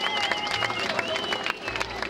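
An audience at a 2001 stage show of La Galère "La Liberté" claps and cheers, a dense crackle of hands with voices mixed in, fairly distant and steady.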